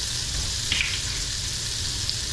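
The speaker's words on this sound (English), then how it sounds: "I'm going to add an egg over here to start simmering for me" An egg frying in butter in a pan for a Southern country breakfast gives a steady, soft sizzle and crackle close by, with a couple of faint clinks and no talking.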